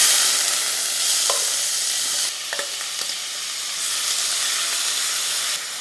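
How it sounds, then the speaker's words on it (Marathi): Half a kilo of finely chopped onion fries in oil already used for birista in a pot for mutton biryani, a strong hissing sizzle with a few sharp clinks of a spoon, no speech. "आता या बरिस्ता तळलेल्या तेलात 1/2 किलो बारीक चिरलेला कांदा घालूया."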